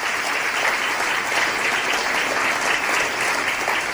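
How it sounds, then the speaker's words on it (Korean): Continuous applause and cheering from Trump supporters in a crowd at a presidential speech on tax relief, a dense steady roar of clapping filling the whole stretch without pause. "트럼프 대통령 연설할 때마다 그 지지자들은 굉장히 그 환호를 합니다"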